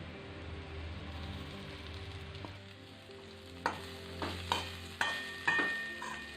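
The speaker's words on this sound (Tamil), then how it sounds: "இதை அவலை இதில் கொட்டிடலாம்." Soaked flattened rice (aval) poured into a pan with sautéed onion and stirred for aval upma, a soft low hiss giving way to a series of close scraping spatula strokes against the pan, quiet and without talk.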